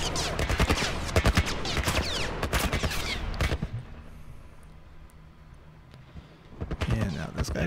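Rapid bursts of gunfire in The Last of Us crackle loudly for several seconds, stop for a quiet stretch, then more shots break out near the end.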